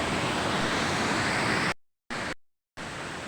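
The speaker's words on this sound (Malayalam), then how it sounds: "ഏകദേശം ഒരു 10-25 മീറ്റർ പൊക്കത്തിൽ നിന്നാണ് വെള്ളം താഴേക്ക് പതിക്കുന്നത്." The Meenmutti waterfall drops roughly 10–25 metres onto rocks, giving a loud, continuous rushing roar of water close by. The sound cuts out completely twice for short gaps, and no one speaks.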